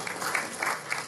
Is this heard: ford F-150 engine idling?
no